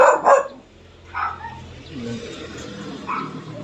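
A dog barks a couple of times up close at the start, followed by fainter yips and whimpers in the distance with some low background rumble.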